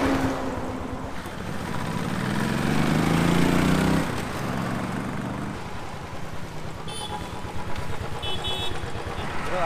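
Royal Enfield RR500 motorcycle being test ridden after a handlebar change, its engine running steadily with a rising rev and wind rush, fairly loud and close, without talk.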